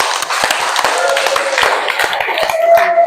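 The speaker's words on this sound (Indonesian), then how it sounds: "kita aplaus untuk kita semua" A classroom of schoolchildren claps together, a dense patter of many hands with sharp individual slaps running steadily throughout, fairly close and loud, with a voice briefly audible over it.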